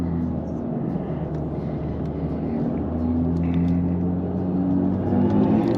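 A 2023 BMW i4 M50 AWD electric sedan accelerates while its speakers pump out a synthetic engine drone, a steady low hum with rising tonal layers filling the cabin throughout.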